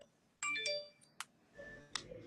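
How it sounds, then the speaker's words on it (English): A smartphone gives a quick run of bright, chiming notification tones, several short electronic blips in a row, clear and close in a quiet room. "There's too many notifications coming through on that one."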